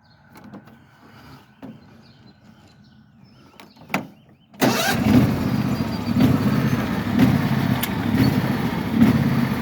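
A John Deere ride-on lawn mower engine turning over and catching after a few faint clicks, then settling into a steady, loud, close running drone that holds to the end.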